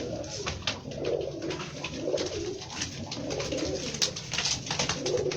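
Teddy pigeons coo repeatedly in soft, throaty rolling phrases, several birds overlapping close by in a steady rhythm with no talk.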